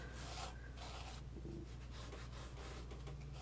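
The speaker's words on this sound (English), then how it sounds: "I can also kind of come in with my fingertips and smooth it down so I make sure it's rubbed right into that liner tape" Fingertips rub glitter into sticky liner tape on a stamped card, a soft continuous close rasping and brushing over a steady low background hum.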